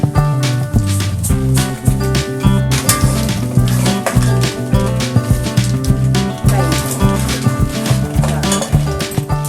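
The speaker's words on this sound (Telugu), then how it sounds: "ఇలా జస్ట్ నార్మల్గా జీలకర్ర ఆవాలు వేసుకొని ఇలా కొంచెం ఫ్రై అయ్యాక" Mustard seeds and cumin frying in oil for tempering avakaya mango pickle give a continuous crackling sizzle with occasional utensil clinks, all heard under prominent background music.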